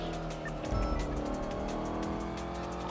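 Car in Grand Theft Auto driven recklessly, a continuous engine drone with a brief bump and tire noise near the start, steady and moderately loud.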